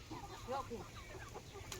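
Soft, low clucking from hens, a few short murmured calls close by, faint against quiet background noise.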